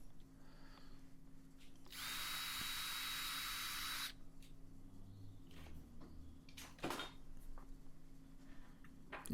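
A power drill with a 4.2 mm cobalt stub bit whirs steadily for about two seconds, then stops, leaving quiet shop noise with a few faint knocks and clatters.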